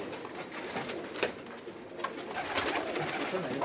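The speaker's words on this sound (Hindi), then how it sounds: "ये है बहुत अच्छा कबूतर है।" Pigeons coo steadily over a busy, noisy background, with occasional louder calls standing out; no one speaks.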